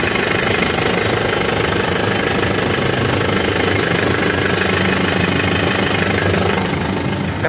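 A black 2006 Grand Touring with a manual gearbox and an original 2005 engine idles steadily and loudly close by, its even mechanical chugging continuing without change or talk.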